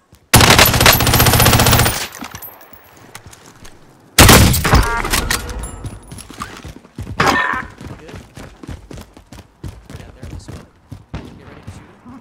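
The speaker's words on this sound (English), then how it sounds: "There's somebody still shooting at us." Gunfire in the video game Warzone comes in two long loud automatic bursts, then scattered single shots and thuds fading into quieter rapid pops, with players talking over it.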